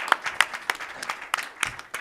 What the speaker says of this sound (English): if you can give a big round of applause.